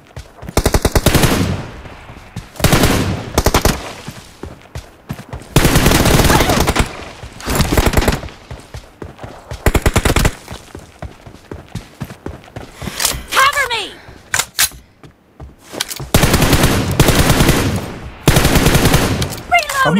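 Bursts of rapid automatic gunfire from a team deathmatch shooter game, loud and repeated in long runs with short pauses between volleys, with people talking over and between the shots.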